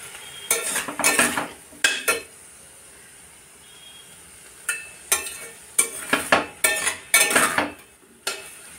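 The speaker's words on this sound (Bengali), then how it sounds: "তো একটু নাড়ছি আস্তে আস্তে করে।" Fish curry with Kashmiri chili powder being gently stirred in a pot, short bursts of utensil scraping and soft sizzle in two separate groups, with quiet gaps between.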